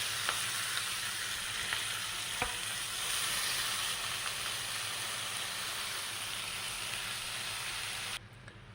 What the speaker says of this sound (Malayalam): ഇനി നമുക്ക് മുറിച്ച് വെച്ച ചീര കുറേശ്ശെയായിട്ട് ഇതിലേക്കൊന്ന് ചേർത്ത് കൊടുക്കാം.